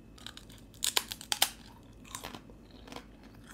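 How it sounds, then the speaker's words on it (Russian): Lingonberry-sauce-flavoured potato chips being eaten up close, a quick burst of sharp crisp crunches followed by a few softer chewing crunches against a quiet background. "Круто, хрустит. Обожаю, когда чипсы такие плотненькие."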